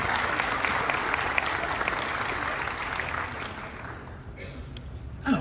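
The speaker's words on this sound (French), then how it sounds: "Sous un tonnerre d'applaudissements, bien évidemment." Sustained applause from an audience at a Disneyland Paris Christmas press conference, a dense steady clatter of clapping that tapers slightly toward the end, with faint voices beneath.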